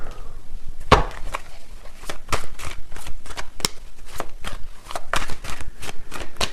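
Tarot cards shuffled by hand, a quick run of crisp riffling snaps and slaps in an irregular rhythm, close and clear with no talking.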